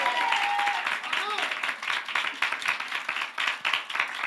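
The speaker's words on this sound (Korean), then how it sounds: "우리 하나님께 박수를 영광 돌리겠습니다" Church congregation applauding together during a Sunday morning worship service, a dense, steady wash of many hands clapping that swells and dips for several seconds, following a brief tone at the start.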